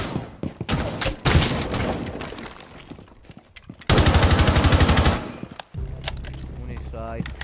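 Gunfire in Rainbow Six Siege comes in sharp bursts, with scattered single shots, then a dense sustained burst of automatic fire lasting over a second, followed by quieter clatter, while players talk.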